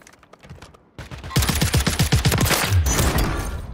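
A gun in the video game Warzone (MW3) fires a rapid, loud burst of automatic shots close by, after a few quieter isolated pops, with the rattling volley running to the end.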